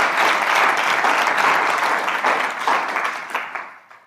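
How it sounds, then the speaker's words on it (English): An audience at a live event in San Diego claps in a steady, dense round of applause that holds loud for a few seconds, then thins and fades out. "Give Eric a round of applause."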